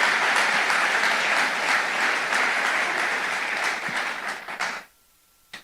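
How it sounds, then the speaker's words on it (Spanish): A church congregation applauds in praise, a steady, dense wash of clapping from many hands that holds for several seconds, then tapers off and stops abruptly, leaving near silence at the end. "Dale palmas al Señor"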